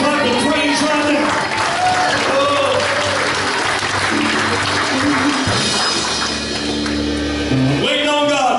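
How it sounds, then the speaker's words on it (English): A church congregation claps and cheers steadily throughout, with a voice calling out over the dense applause. "somebody ought to give Him a hand clap of praise right now"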